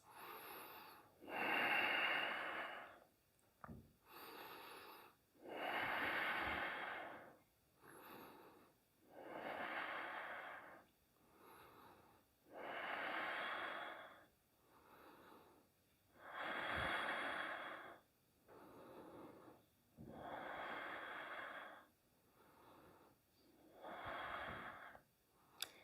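Slow, deep breathing held in a runner's lunge during a yoga practice, about nine long airy inhale and exhale cycles with brief pauses between, close and quiet, no talking.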